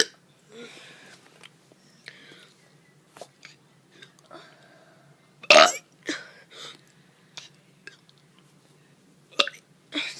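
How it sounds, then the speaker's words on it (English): A child burps repeatedly in short, scattered bursts, with one loud, close burp standing out among softer ones and quiet pauses between them. "this is me doing burps again"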